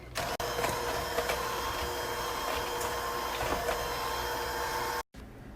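An electric beater mixing berry muffin batter whirs with a steady mechanical drone and faint rattles, cutting out abruptly for a moment near the end before resuming.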